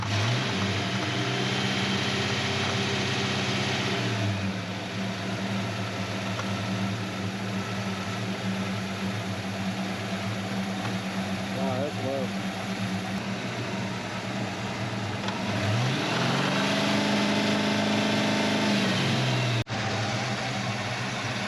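A Ford Mustang SN95 GT V8 engine idles steadily with a low droning hum that rises and falls in pitch a couple of times as it is revved slightly, close and continuous.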